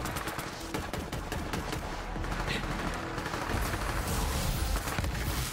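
Rapid gunfire in the video game Borderlands 3 during co-op play: fast repeated shots in steady bursts at moderate volume, with the game's background sound underneath.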